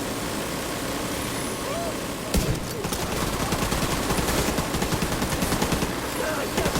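Minigun fire in a video game rattles as a dense run of rapid shots after a loud initial burst, continuing steadily over a busy background of game noise and engine rumble, with voices mixed in.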